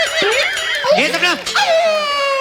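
A woman wails like a dog, a voice imitating canine howls and whimpers in a comedy show setting, with wavering, rising and falling cries close and loud, overlapping in quick succession.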